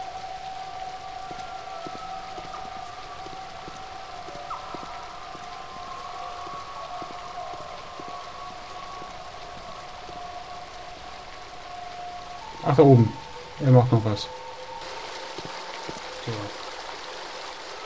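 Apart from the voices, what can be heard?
water streaming down through a hole, from video game The Dig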